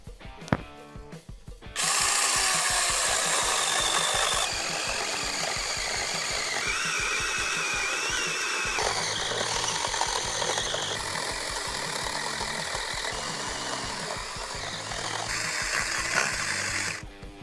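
A TEX.AC TAOE-S4 mini cordless chainsaw cuts through a thick log, its electric whine starting abruptly and holding loud and steady with shifting pitch as the chain bites, close up and without talk.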